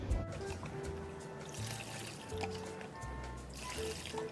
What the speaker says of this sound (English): just pour it over the crease